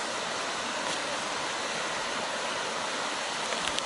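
Orange Mine Waterfall near Snake Road in Germantown gives a steady, close, full rushing roar of falling water that does not change throughout, with no voices.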